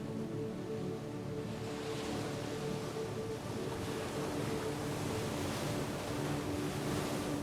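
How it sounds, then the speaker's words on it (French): Steady broadband wash of sea waves and surf, a continuous even roar throughout with some wind noise, no voices. "Écoute le son des vagues."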